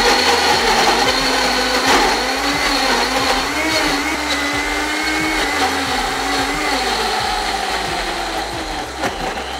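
A powerful 3-horsepower blender whirs continuously through frozen fruit for a lúcuma smoothie bowl, a loud, steady motor roar with slight pitch wavering and chunky rattling, no talking.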